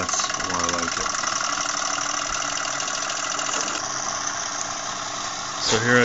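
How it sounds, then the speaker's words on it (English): Steam engine with its piston turning a flywheel, running under boiler pressure as a continuous, steady mechanical chugging hum with a buzzy texture. A brief swell and thump comes near the end. "So here I've got my steam engine hooked up."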